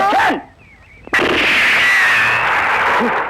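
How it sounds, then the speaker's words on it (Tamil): A single loud, close gunshot fired in celebration in a Tamil film scene, a sharp crack followed by a long ringing echo that fills the rest of the moment, with a brief voice just before it. "என்ன குண்டு முழங்க எங்களை வாழ்த்துறீங்களா?"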